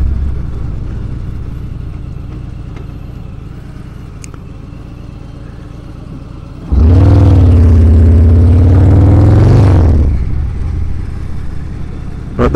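A 2018 Harley-Davidson Fat Bob 114 rumbles steadily underway, then its V-twin engine swells into a loud, deep, sustained rev for a few seconds before dropping back to a lower, even drone.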